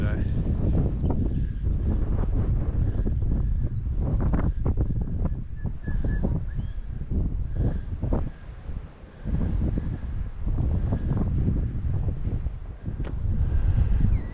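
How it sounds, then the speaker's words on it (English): Strong wind blows on a coastal walk near Portsea beach on the Mornington Peninsula, buffeting the microphone with a constant loud rumble and gusts that barely ease. "if you can hear me over the wind"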